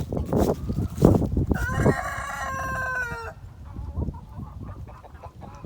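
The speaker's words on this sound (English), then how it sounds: "here's all the chickens this morning" Chickens with little beards under their necks in a coop in the morning: a rooster crows loudly and clearly near the start, and clucking and rustling follow at close range.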